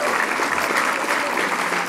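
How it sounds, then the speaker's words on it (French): Steady, dense applause from an audience at an esports gala in Québec, loud and close, sustained without break for about two seconds. "Donnez-vous une main d'applaudissement pour toute l'attention que vous mettez"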